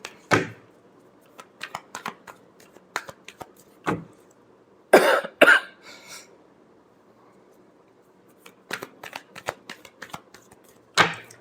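Tarot cards shuffled by hand in short, scattered riffling bursts with quiet gaps between, close and crisp, no talk.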